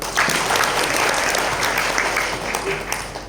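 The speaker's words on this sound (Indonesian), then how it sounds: "Tepuk tangan dulu dong." Applause from an audience at a corporate training session, a dense, steady clatter of clapping sustained for a few seconds at moderate loudness before tapering slightly.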